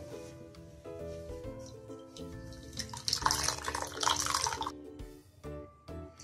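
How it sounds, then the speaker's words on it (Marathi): Water squeezed by hand from freshly curdled paneer in a cloth drips and trickles into a vessel, rising to a fuller splashing stream midway before easing back to scattered drips, heard close with faint background hum. "आता या पनीर मधलं पाणी आपण पिळून काढून घेऊ"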